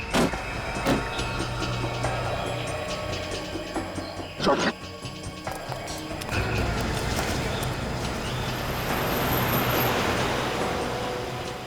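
A car drives fast along a road during a chase, engine and road noise rising and sustained, with sharp knocks and a brief clatter early on and people talking over it.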